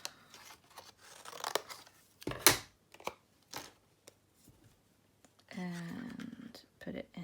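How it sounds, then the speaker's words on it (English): Scissors snip through a piece of card for handmade card-making, with a few short, crisp cuts and paper rustles spaced out close by, while someone speaks over parts of it. "you can take a pair of scissors to your piece of card"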